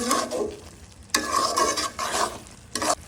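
Grated coconut and sugar are stirred in a pan with a spatula: three distinct bursts of scraping and soft sizzling, separated by short pauses, close and clear, with no voices.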